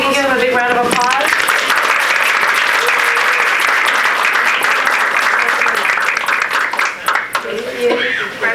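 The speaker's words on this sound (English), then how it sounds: "if we can give them a big round of applause" Big round of applause from the audience at a board of directors meeting, broad and sustained for several seconds, with voices speaking at the start and end.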